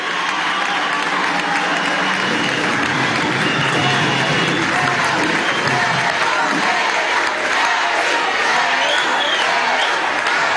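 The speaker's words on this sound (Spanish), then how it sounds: "Un fuerte aplauso a nuestros candidatos y candidatas aquí en Aragua." A crowd at a PSUV political meeting in Aragua, Venezuela, claps and cheers loudly and continuously for ten seconds, a dense wash of hands and voices with a speaker's voice mixed into the din.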